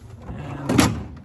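A hotel room mini bar's cooling drawer slides open with a single short, close scraping rush of movement, loud against a quiet room.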